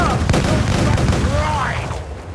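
Ship cannons firing in Assassin's Creed Black Flag during a naval battle on a squally sea, heavy booming rumbles over a dense, loud roar of battle noise, with voices mixed in.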